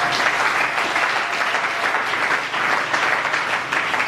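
Church congregation applauding during a morning worship service, steady dense clapping that fills the room continuously from start to finish.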